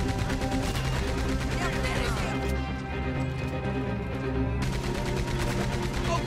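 Gunfire rings out in Red Dead Redemption 2, a rapid string of loud shots, some machine-gun-like bursts, layered over a rumbling moving train and clattering hooves, with game music and shouting characters mixed in.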